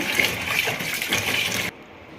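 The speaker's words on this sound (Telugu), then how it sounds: "ప్రాన్స్ 2-3 times రన్నింగ్ వాటర్లో క్లీన్ చేసుకున్న తర్వాత" Prawns rinsed under a running tap give a close, steady rush of water for under two seconds before it cuts off abruptly, leaving quiet room tone and no voices.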